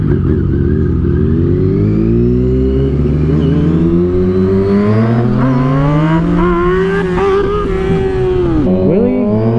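Motorcycle engine revving hard during a wheelie, a loud close steady drone that climbs in pitch over several seconds before dropping off abruptly near the end.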